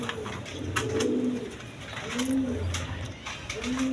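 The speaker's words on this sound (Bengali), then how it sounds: "মালটেস কবুতর একদম বিগ সাইজে দেখার মতো কবুতর" Maltese pigeons coo in low, repeated throaty rumbles, several calls overlapping at close range, with light rustling and scratching around them.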